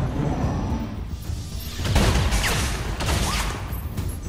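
Scattered gunfire bursts in the XCOM 2 strategy game, several quick volleys with booms spread across the clip over a dense, busy battlefield backdrop, no talking.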